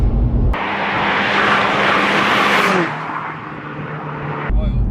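A modified mk1 Skoda Octavia vRS estate accelerates hard in third gear, its engine note loud and rising steadily as it is heard from inside, then the revs drop briefly as it shifts.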